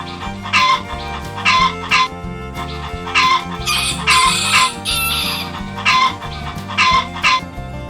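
A toy rooster crows in repeated electronic bursts over a looping background tune, several calls in steady rhythm, fairly loud and close.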